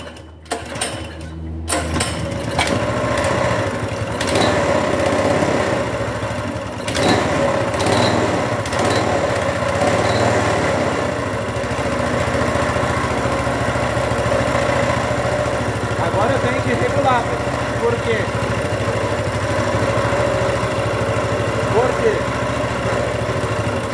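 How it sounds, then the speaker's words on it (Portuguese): Small stationary engine of the kind used on a mini buggy, pull-started by cord after a weak battery, rattling into a steady high-pitched idle that runs continuously and fairly loud, with a brief clatter at the start. "É só dar uma puxadinha de corda pra cá."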